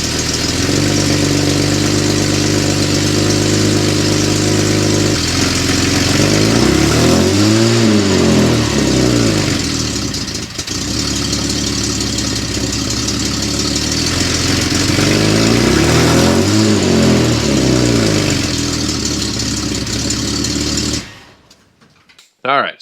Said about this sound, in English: what do you say we get a little sound check in from the factory muffler sound